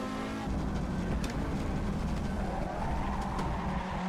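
Audi Quattro S1 rally car in Assetto Corsa breaking traction on a paved stone road, a steady loud engine drone with a rough scrabbling tyre hiss running throughout.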